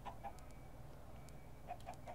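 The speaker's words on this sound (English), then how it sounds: "Oh, hello, chicken." A chicken in the video game Minecraft gives short clucks, a couple at the start and a few near the end, fairly faint over a soft steady background.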